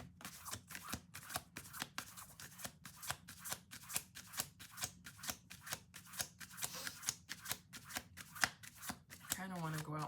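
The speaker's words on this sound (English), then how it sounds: "Last shuffle." A deck of playing cards is shuffled over and over, each riffle a quick papery burst in a steady repeating rhythm, close and clear, with a brief voice at the end.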